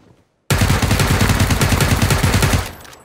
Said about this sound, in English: Someone else is shooting him.